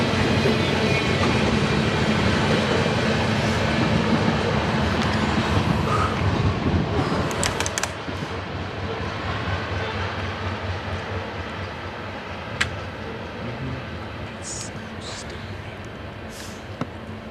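Freight train passing by in northwestern Indiana, a loud rolling rumble with clickety-clack wheel beats and wind noise that eases after the first half, then a quieter fading roll with faint voices.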